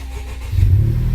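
A 2018 Honda Civic Type R engine fires up, a quiet moment followed by a sudden loud, close low rumble that settles into a steady idle within a second.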